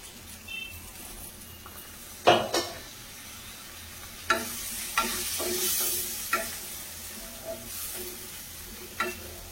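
Water poured into a hot kadai pan of onions, capsicum and paneer masala hisses and sizzles, with spoon stirring and scraping clinks over a continuous close frying crackle, no voices.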